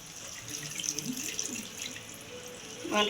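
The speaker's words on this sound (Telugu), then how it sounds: "నేను కొంచెం వాటర్ పోస్తున్నానండి" Water runs and splashes steadily onto tamarind in a container nearby, a soft continuous pour with a louder burst near the end.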